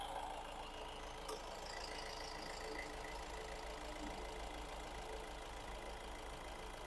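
A 2013 Honda CR-V 2.2-litre diesel engine idles steadily nearby, a continuous low mechanical drone with a faint rattle and no voices.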